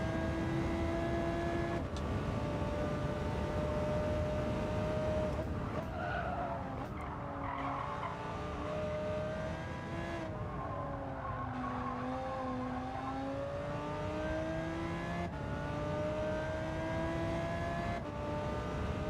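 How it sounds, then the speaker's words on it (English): Porsche race cars in the racing video game Gran Turismo 7 drone steadily through the whole stretch, engine tones rising and falling with shifts and tire squeal mixed in, loud and continuous with no talking. "Those Porsches are quick."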